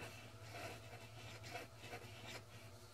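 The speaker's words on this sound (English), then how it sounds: "as I am writing this cursive word, I am not removing my pen from the surface" Soft, continuous scratching of a Minc pen gliding across paper writing cursive, faint and close, with gentle rhythmic strokes and no talking.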